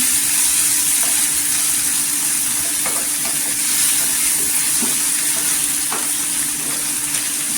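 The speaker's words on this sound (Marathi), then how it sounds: "इथे छान असं तेलावर भाजून घ्यायचं, सॉफ्ट झाला पाहिजे टोमॅटो।" Ginger, garlic, green chili and tomato fry in hot oil, a loud continuous close hissing sizzle with a few faint stirring scrapes underneath.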